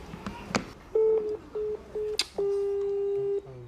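An unanswered phone call to family in Gaza gives a few short ringback tones and then one long steady tone, preceded by brief clicks and line noise, with a faint background murmur.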